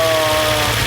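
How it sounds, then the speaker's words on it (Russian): Lexus 400h hybrid engine running after shifting into its second mode, a steady, close idle hum with a low throb and faint tonal whine throughout, no voices. "Вот двигатель перешел на второй режим"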